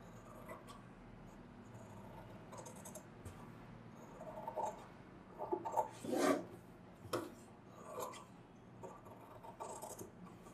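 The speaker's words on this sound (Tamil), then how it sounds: "லைனிங் போக எக்ஸ்ட்ரா உள்ள மெட்டீரியல் பூரா வெட்டிடலாம்." Scissors cut away the extra blouse fabric beyond the lining of a princess-cut front-open blouse, giving soft rasping, rubbing snips that grow louder and busier midway, close and unaccompanied by speech.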